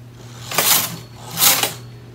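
A domestic knitting machine carriage sweeps across the needle bed knitting rows, two smooth whooshing passes about a second apart, close and clear with a faint background hum.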